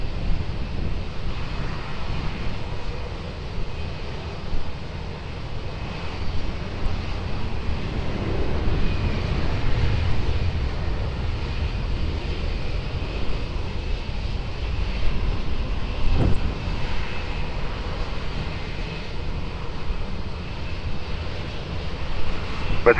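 An Embraer 195 airliner rolls at Lisbon Airport with a loud, continuous broadband engine roar that holds steady throughout, mixed with wind rumble and no talking.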